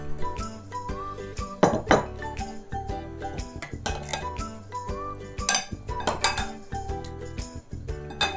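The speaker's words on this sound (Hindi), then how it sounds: "इसको हम अच्छे से मिक्स कर लेंगे" Fried chicken being stirred into masala in a pan: busy metallic clinks and scrapes of a spoon against cookware, with a few louder knocks, close and continuous, no talking.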